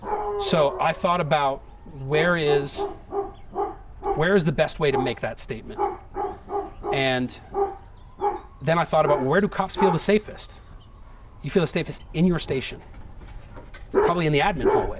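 A dog barks and yips intermittently in a home during a man's steady speech, the bursts partly overlapping and masked by his talking.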